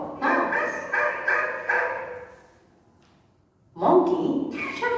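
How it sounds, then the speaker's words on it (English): A dog barks several times in a quick, moderately loud series, followed by a short quiet gap before a voice talks. "Dog barks."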